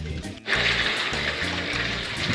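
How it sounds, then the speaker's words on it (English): Hot spring water flows steadily into a soaking pool at the Uyuni salt flats region of Bolivia, a continuous broadband gush close by with a brief dip near the start. "the spring is coming into this water here"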